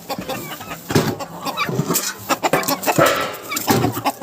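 Young roosters and ducks in a winter village yard cluck and call in close, uneven bursts, loud and restless as they beg for food and water.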